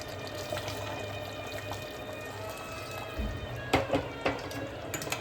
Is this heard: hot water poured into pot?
yes